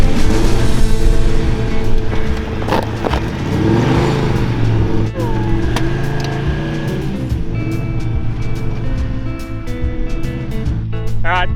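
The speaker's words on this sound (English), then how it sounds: "it took a few goes to spin the ute around and get it back on the track" A ute engine revs and labours close by while turning around in very soft sand, rising and falling in loud surges with some faint background voices.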